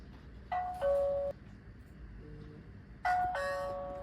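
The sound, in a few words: REHENT smart WiFi video doorbell chime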